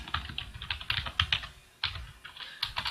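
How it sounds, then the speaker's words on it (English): Typing on a computer keyboard while filling in a form, bursts of quick clicking keystrokes with short pauses between runs, close and clear with no voices. "we are typing in the same thing quite a few times here"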